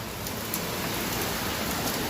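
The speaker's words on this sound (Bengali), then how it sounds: "একটা বিচ্ছিরি বৃষ্টি একটা" Heavy rain pours down in a dense, steady hiss that stays constant and fills the whole scene, with no voices heard.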